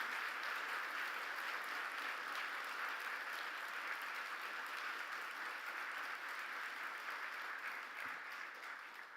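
An audience at the Samsung Ho-Am Prize award ceremony breaks into sustained applause, a steady, even wash of many hands clapping in a large hall that carries on throughout, heard at a moderate distance.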